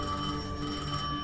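A telephone in Destiny 2 rings with a steady, sustained electronic bell tone, close and even in level, with no talking.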